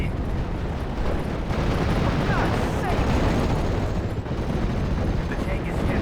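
A dense, sustained roar of battle noise in Steel Division Normandy 44 as a shell explodes against a tank, with a rumbling wash of blasts and gunfire filling the whole stretch at steady loudness.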